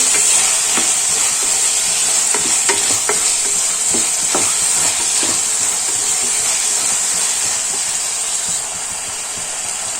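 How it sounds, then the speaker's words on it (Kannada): Peas and softened tomato frying in oil in a pan, a steady loud sizzle and hiss with intermittent scraping and stirring clicks of a spoon. "ಇವಾಗ ನಾನಿಲ್ಲಿ ಬಟಾಣಿಯನ್ನು ಹ್ಯಾಡ್ ಮಾಡ್ಕೊತೀನಿ ಇದು ಅಷ್ಟೇ ಸ್ವಲ್ಪ ಆಯಿಲಲ್ಲಿ ಚೆನ್ನಾಗಿ ಫ್ರೈ ಆಗಲಿ"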